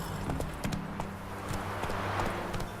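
Roach, a horse in The Witcher 3 video game, trots with quick, rhythmic hoof clip-clops close by, steady beats running throughout under a low background hum.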